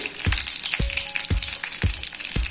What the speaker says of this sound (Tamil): எண்ணெய் சூடானதும் காஞ்ச மிளகாய் 2 கட் பண்ணி போட்டிருக்கேன் காஞ்ச மிளகாய்.